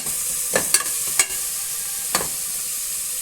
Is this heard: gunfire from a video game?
no